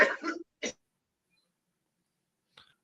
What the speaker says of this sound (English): having a little bit of a coughing fit